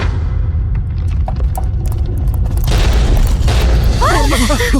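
A statue shatters in a loud explosion: a deep booming rumble fills the scene, rising into a dense burst of crashing debris and clatter in the latter half, with a few faint voices underneath.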